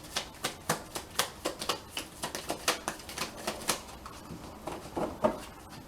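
Tarot cards being shuffled for a reading, a steady run of sharp riffling flicks and slaps at a regular pace, close up and fairly loud, with no talking.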